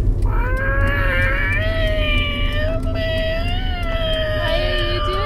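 A person's voice imitates an Angry Birds bird screech, producing a long, wavering, high-pitched squeal that rises and falls over several seconds, close and fairly loud, with no other sounds.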